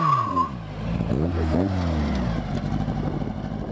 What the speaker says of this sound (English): When Herby saw her car, his hood popped open and his engine raced.